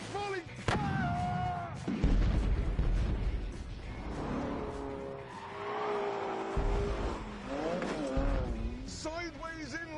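Car sliding sideways with squealing tyres in The Grand Tour video game on PS4, engine noise and skid tones loud throughout, with voices talking over the driving.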